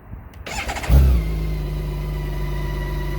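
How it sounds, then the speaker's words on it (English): BMW K1600GT motorcycle engine cranking with a brief whirring starter, then catching with a sharp loud rev before settling into a smooth, steady idle close by. "let's start the bike, fire it up"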